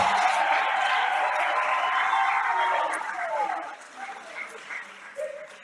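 Members applaud in a parliament chamber, a sustained wash of clapping that fades after a few seconds into scattered sounds and a quieter room.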